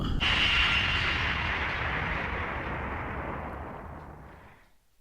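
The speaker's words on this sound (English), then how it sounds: "this Chrism blows off in a perfect line. Boom!" A long, roaring explosion from Breath of Fire 3, a loud, wide burst that hits sharply and then rumbles away steadily for several seconds until it cuts out.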